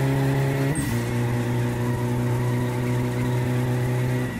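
Tires of a car with a locked wheel spin and squeal in My Summer Car, a sustained loud screech over a steady engine drone after a brief opening rev, with no talk.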